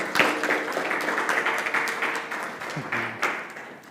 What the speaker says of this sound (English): let's give Mr. Hussein a hand clap for him